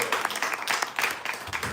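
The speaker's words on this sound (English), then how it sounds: "Let's give a big round of applause." A Sunday Feast audience gives a round of applause, with brisk, moderately loud clapping from a group of people over a short stretch.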